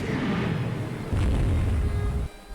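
Torpedo tubes firing aboard warships in Rule the Waves 2 give a muffled low boom and rumble, a heavy thud swelling midway and cutting off near the end, fairly quiet with no voices.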